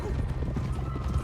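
A horse whinnies over steady hoofbeats in Red Dead Redemption 2 during an Old West outlaw gang scene, a brief loud burst over a dense, rumbling background.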